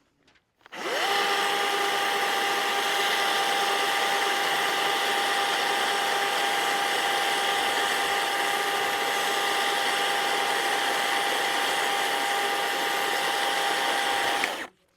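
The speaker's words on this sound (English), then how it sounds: "I'm actually going to use a chainsaw, and I'm just going to feather away this little portion here" A chainsaw shaves a small high spot off a timber for a timber frame, running as a steady, loud, high-revving drone with a faint tonal whine, starting abruptly and cutting off after about fourteen seconds.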